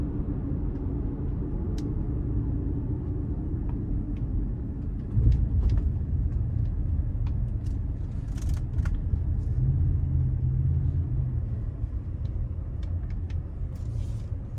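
A 2017 Toyota Highlander SE AWD with 128,000 miles pulls out of a corner, its engine a steady low rumble that swells moderately as it accelerates, heard from inside the cabin with no talking.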